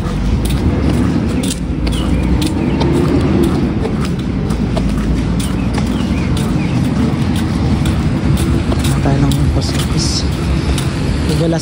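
Many cars passing on a busy road on a dark, rainy day in Smoky Lake, Alberta, a loud continuous wash of traffic and tyre noise up close, with some talking mixed in.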